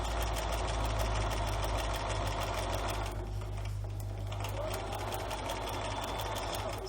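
A sewing machine stitches fabric in a steady, loud, continuous mechanical whir that runs the whole time and dips briefly in the middle.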